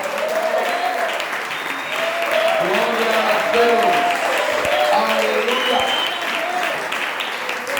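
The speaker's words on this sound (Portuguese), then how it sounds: "Vamos dar um aplauso ao Senhor para quem está nos assistindo agora." Congregation applauding during a church service, a steady sustained round of clapping while someone speaks and exclaims over it in praise.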